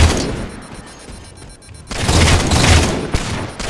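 Gunfire in a Halo slayer match, a loud dense burst of shots and blasts that swells after a quieter stretch, close and punchy with no voices over it.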